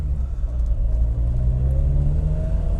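A Triumph Herald 13/60 drives along wet autumn country roads, its engine giving a steady, close, low rumble that holds an even pitch throughout, with no voices.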